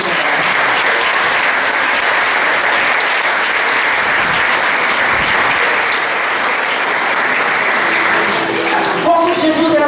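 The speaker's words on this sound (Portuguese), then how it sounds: "Dá uma aplauso a Jesus." Church congregation applauding, a loud continuous wash of clapping that holds steady for nearly ten seconds before a voice comes in at the end.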